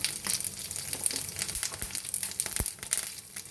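Cumin seeds and dried red chillies fry in about half a spoon of hot oil in a pan, giving a steady close sizzle with scattered crackles and pops throughout.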